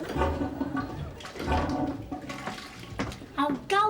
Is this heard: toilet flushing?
yes